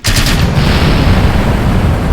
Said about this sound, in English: those explosions you just saw on the bottom, those are those separation rings as we launched